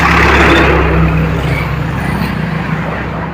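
Heavy highway traffic near Dhaka, with trucks and buses on the route, makes a loud, continuous roar as vehicles pass close by. There is no speech.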